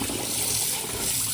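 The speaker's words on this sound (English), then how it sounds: "So I've washed this rice a few times, and this is my last rinse." Water sloshing and trickling as basmati rice gets its final rinse in a kitchen, a steady close, fairly soft liquid wash with no talk.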